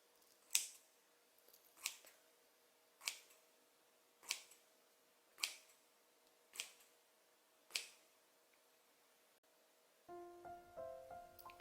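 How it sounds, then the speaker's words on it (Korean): Scissors snip through sausage bread dough in seven crisp, evenly spaced cuts close to the mic in a quiet kitchen, followed by a brief muffled handling sound. "이제 가위로 커팅을 해볼게요."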